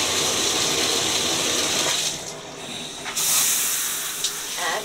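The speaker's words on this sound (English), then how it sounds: "I'm gonna turn the water back on." Water runs steadily from a shower in a hair-care routine, a broad continuous hiss that drops back briefly in the middle and then returns, close and fairly loud with no talking.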